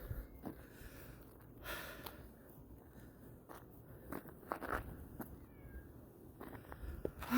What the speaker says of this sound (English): he's meowing like crazy